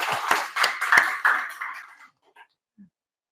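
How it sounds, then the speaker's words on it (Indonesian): A classroom audience at a vocational high school claps for a couple of seconds. The applause is a brief burst of sharp, uneven claps that quickly thins out to a few stray claps and then silence. "Baik, tepuk tangan dulu untuk kita semua."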